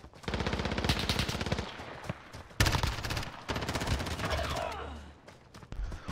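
Rapid automatic gunfire from a Call of Duty Modern Warfare 2v2 match, long loud bursts of closely spaced shots with brief pauses between volleys, and faint voices now and then under the shooting.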